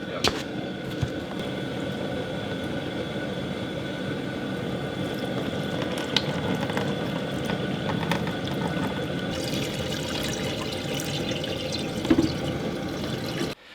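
Maple sap poured out of a bucket, a steady watery pour running beneath outdoor background noise for the whole stretch, with a few small knocks and a brief brighter splash near the end.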